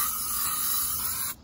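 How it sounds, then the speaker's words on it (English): Aerosol insecticide sprayed inside a car against ants: a continuous close, loud hiss of the spray can that cuts off abruptly near the end. "just spray this stuff and"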